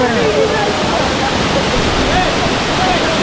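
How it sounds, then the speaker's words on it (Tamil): A waterfall, Masila Falls in the Kolli Hills, roars loudly and continuously, a dense rushing wash of water close by that fills the whole clip. "எவ்வளோ பயங்கர சவுண்டாக இருக்குங்க தண்ணியோட சவுண்டு"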